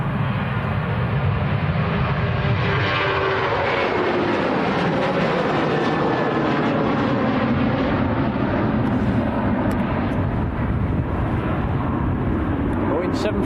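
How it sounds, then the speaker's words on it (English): A Ryanair Boeing 737-800 bound for Almeria rotates and climbs away at Manchester Airport, a loud, steady broadband jet roar that fills the whole stretch close by, with faint talk beneath. "next to go, we've got Ryanair to Almeria"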